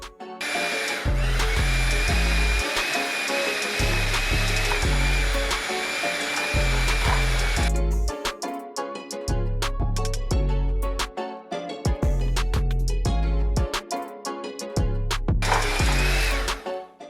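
Electric hand mixer beating cream cheese with granulated sugar for a guava pastry filling, a loud continuous motor whine that stops briefly and starts again in bursts over background music.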